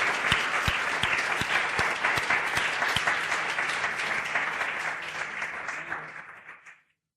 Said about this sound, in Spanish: Más fuerte, fuerte, fuertes aplausos si es para Dios.